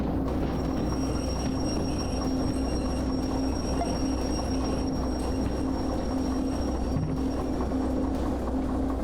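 Freight train rolling in the Derail Valley game during shunting, a steady low rumble with a sustained hum and faint high tones, continuous and fairly loud throughout.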